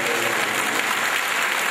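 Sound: audience applause in church event

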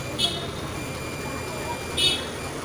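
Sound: buzzer beeping while testing a Lenovo A6000 phone board

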